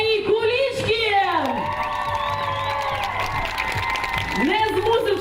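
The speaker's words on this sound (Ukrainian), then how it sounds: "просити дуже гучних оплесків" Loud applause and cheering from a large audience at the closing ceremony of the Shturm 2015 event, a dense, continuous roar of clapping and shouts with a voice carrying over it.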